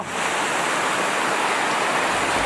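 Waterfall with water pouring down in a loud, constant rush, close and full, filling the whole moment without any talking.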